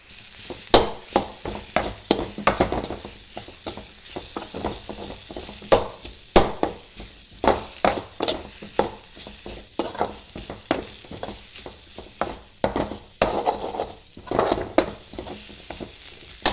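Chickpea curry masala sautéing with garlic ginger paste, loud repeated scraping strokes of a spoon stirring through the thick sizzling mixture in a pan, a busy irregular rhythm throughout.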